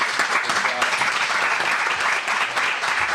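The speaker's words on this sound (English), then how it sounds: "All right, a big round of applause for the panel." An audience applauds a panel at a Sacramento farm-to-fork social media event, a steady dense clapping that holds evenly throughout at moderate loudness.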